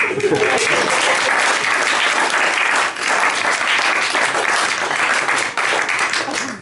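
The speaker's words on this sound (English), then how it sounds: "can we have another round of applause for the bride?" Wedding guests at a reception give the bride a thick, sustained round of applause, loud and close, with cheering voices mixed in and a couple of brief dips in the clapping.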